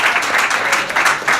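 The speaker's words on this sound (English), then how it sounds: "Give him a big round of applause." A crowd applauds at a comedy show in Washington DC, producing a brief, full wash of clapping that swells in slight waves.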